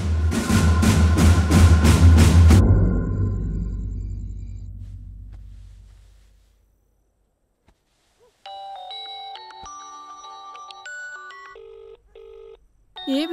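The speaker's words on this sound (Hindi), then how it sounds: "ए बिटिया फोनवा उठा," A telephone bell rings in several rapid repeated bursts, loud and close, then fades away; electronic tones chirp later.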